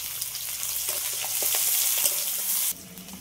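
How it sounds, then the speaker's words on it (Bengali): Dried chillies, five-spice, chopped onion and crushed garlic frying in leftover fish-frying oil, a loud continuous sizzle with small stirring clinks, ending in a sudden drop as the hiss softens. "এই মাছ ভাজার তেলের মধ্যে দিয়ে দিচ্ছি শুকনো লঙ্কা দুটো কেটে নিয়েছি, এটা দিয়ে দিলাম। পাঁচফোড়ন, পেঁয়াজ কুচি, থেতো করা রাখা রসুন।"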